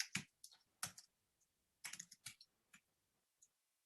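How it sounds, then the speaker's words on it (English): Computer keyboard typing while entering a text message: irregular bursts of sharp, close key clicks with short pauses between clusters, no talking. "The text message that I want to see is everything here that I'm typing."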